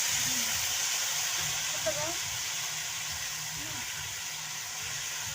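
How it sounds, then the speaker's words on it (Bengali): Water hits a pan of spiced pointed gourd shoots and brings on a steady, broad steam hiss and sizzle, even and fairly close, with a few faint voices underneath. "এবার জল দেবো"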